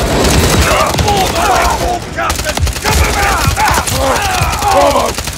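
Dense rapid automatic gunfire rattles continuously in a Call of Duty Modern Warfare 3 battle, loud and close, with shouted voices over the shooting.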